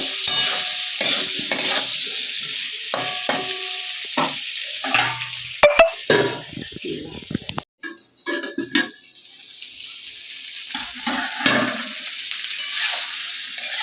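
Shukto vegetables with a little turmeric being sautéed in a pan for a Bengali recipe: a soft, steady sizzle under repeated scraping and stirring, with sharp metallic clinks of a spoon against the pan and a brief lull midway.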